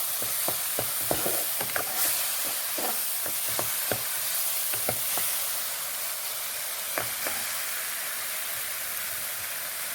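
Spice masala for gravy, with salt and turmeric, being stirred in a pan: continuous hissing sizzle broken by repeated sharp spatula scrapes and taps, close and fairly loud, no talking.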